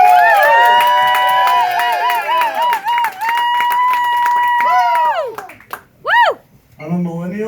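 Comedy club patrons clap and cheer for comedian David Stewart, with sharp claps under loud sustained whoops and shouts that break into scattered bursts near the end.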